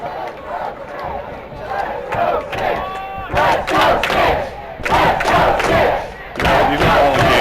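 Crowd at a world cup quidditch match shouting and cheering in loud surging bursts with thumping sounds, fading briefly between swells.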